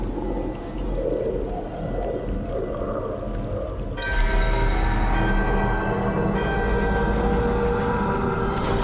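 A deep bell tolls during a ritual in the video game Dragon Age: The Veilguard, entering partway through as a sustained, resonant ringing with layered overtones over a low, rumbling ambient background.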